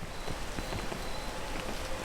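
Steady rain pattering down in the climbing video game PEAK, a dense, even wash of drops that stays constant throughout with no voices over it.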